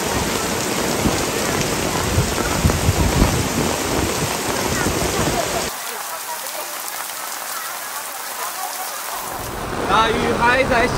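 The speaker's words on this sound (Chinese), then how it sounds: "大雨还在下，你的心里怕不怕？" Heavy rain pours down steadily in a city setting, a dense close patter that dips briefly midway before swelling again, with no talk over it.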